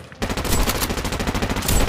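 Shotgun fire in a video game: a rapid, loud string of repeated shots bursts in after a brief quiet start and keeps pounding steadily to the end.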